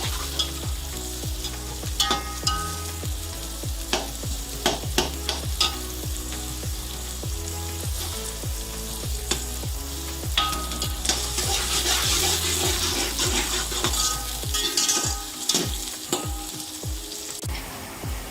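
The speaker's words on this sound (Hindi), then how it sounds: "प्याज लाइट ब्राउन हो चुके हैं।" Onions frying and being stirred in a pan for chicken pulao, cooked to light brown: a steady close sizzle with repeated rhythmic scraping strokes of the spoon throughout, no talking.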